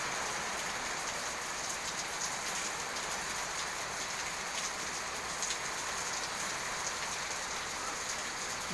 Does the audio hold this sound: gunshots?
no